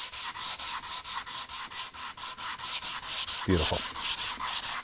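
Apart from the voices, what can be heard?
hand sanding wood chamfer with a sanding block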